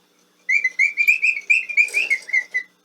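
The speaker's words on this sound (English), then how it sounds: "Is the chirping bird that I have." A wind-up mechanical toy bird in a cage chirps close and clear, a quick run of about a dozen bright, whistly tweets in a steady rhythm, heard alone with no talking.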